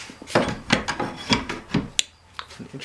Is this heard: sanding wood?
yes